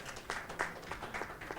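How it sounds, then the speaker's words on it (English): Quiet, scattered clapping from an audience at a panel discussion on talent development, a handful of distinct claps in a loose rhythm rather than a full ovation. "Please, let's give her another round of applause."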